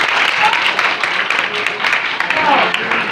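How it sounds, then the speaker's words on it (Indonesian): Steady applause from a church congregation during a worship service, dense continuous clapping filling the room at close range with some voices mixed in. "Kalian tidak dilarang tepuk tangan ya, seperti ibadah."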